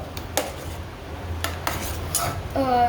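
Paneer curry is stirred in a pan with a metal spoon, making a few sharp scrapes and clinks against the pan over a low steady background, with a faint sizzle toward the end.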